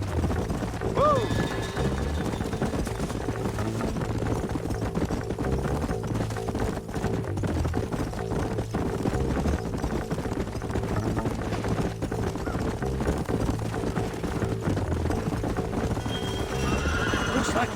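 Horses in the Red Dead Redemption video game gallop with steady, close clip-clop hoofbeats and give a sharp neigh near the start, over a continuous bed of game ambience and wind.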